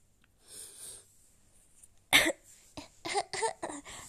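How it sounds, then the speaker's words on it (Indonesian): Several coughs in a quiet indoor live stream: one sharp, loud cough, then a series of shorter, softer coughs and breaths, close and with no talking. "Aku batuknya gitu gak sih?"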